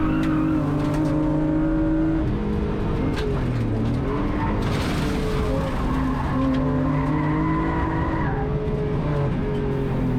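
A BMW E36 rallycross car racing on a track, its engine droning loud and close with shifting pitch as tires squeal and skid through corners, continuous throughout.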